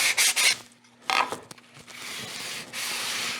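Sandpaper rubs along the routed front edge of a wooden cremation urn in a few rasping strokes, loud short bursts at first, a brief lull, then longer steady passes close to the microphone.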